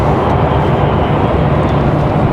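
A Cessna Citation XL business jet at Raleigh-Durham International Airport, a loud, steady broadband engine roar holding constant throughout, no voices.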